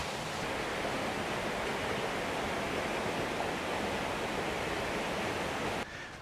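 Steady broadband rush of water pouring at Sai Mok Waterfall on the Mae Rim River in Thailand, loud and close, continuous without a break until it drops slightly in level just before the end.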